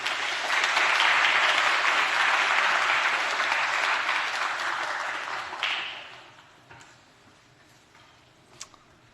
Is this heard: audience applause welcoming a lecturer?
yes